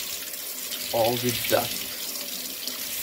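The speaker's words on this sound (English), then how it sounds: "I run the cold water, and I just wash the sachet in cold water" Cold water runs from a kitchen tap in a steady hiss as a tea bag is rinsed under it, with someone speaking briefly over the flow.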